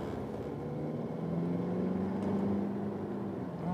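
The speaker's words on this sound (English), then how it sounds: "when you turn up the RPMs, it strangely sounds, well, not quite like a diesel" The 2.2-litre diesel of an Infiniti Q30 revs after a downshift into third: a steady engine drone with a rising tone that swells, then eases, heard from inside the car.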